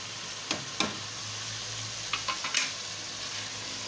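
Whole spices and ground masala roasting over medium flame for a chicken and potato curry: a steady, even sizzle with a few sharp ticks of a spoon against the pan near the start and again midway.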